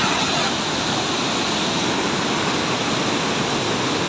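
A floodwater torrent on the Indus at Kalabagh rushes past in a loud, dense, unbroken roar of churning water. It is steady from start to finish, with no voices.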